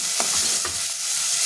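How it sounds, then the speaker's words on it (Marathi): Chopped onion and tomato fry in a hot pan with a steady close sizzle, while a spatula scrapes through them in two distinct stirring strokes. "हे आपल्याला छान फ्राय करून घ्यायचे आहे"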